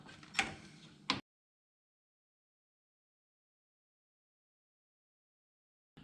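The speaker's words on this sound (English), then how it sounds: "I'm going to undo those bolts, that way I can move the fan a little bit" Two 8mm bolts being undone on the electric cooling fan of a 2008 Mustang GT500 give a brief burst of close mechanical clicking and scraping, then silence.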